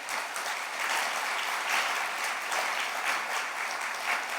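A church congregation claps hands together in praise, a dense, sustained wash of many hands at steady loudness, filling the room without a break.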